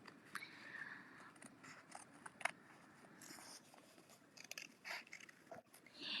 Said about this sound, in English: you're going to take your scissors, and now you're going to cut directly on the line